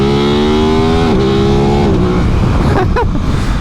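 Motorcycle engine revving loudly and steadily, pitch climbing then dropping, with a brief whine and rumble near the end; close and continuous.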